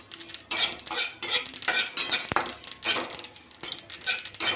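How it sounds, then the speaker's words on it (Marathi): Sesame seeds dry-roasting in a pan are stirred steadily with a spoon, producing close, repeated bursts of scraping and light clinking that run alongside a faint sizzle, with no talking. "पहिल्यांदा मी तीळ भाजून घेणार आहे। तीळ छान भाजून घ्यायचं आहे, असं तळतळले पाहिजेत तीळ।"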